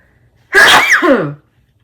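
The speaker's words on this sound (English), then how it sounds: "we'll sneeze again" A single loud, close sneeze with a sharp intake and burst, lasting under a second, surrounded by near silence.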